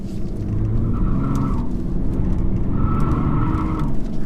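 A 2017 BMW 335d diesel accelerating hard, a loud, steady engine drone heard from inside the car with the pitch climbing through two gear pulls, and no talk.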